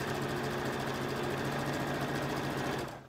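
A sewing machine runs a continuous straight seam down a folded edge of an envelope cushion cover, a fast steady mechanical whirr that stops abruptly at the end, close and alone.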